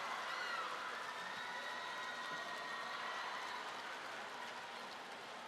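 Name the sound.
crowd cheering on the neighbouring table tennis court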